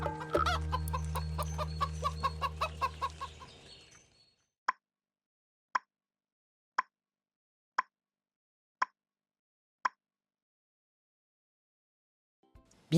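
Hens cluck in a dense, busy flock burst over a low hum, fading out after a few seconds, followed by six evenly spaced single plopping clicks in near silence, as a sound effect in a French children's audiobook.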